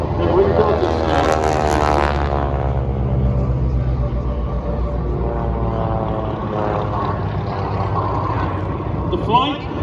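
Propeller aircraft flying during a Pearl Harbor attack reenactment at the EAA AirVenture 2021 airshow in Oshkosh, Wisconsin: a loud, steady droning engine roar with pitch shifting as planes pass, heard under an announcer's continuous narration.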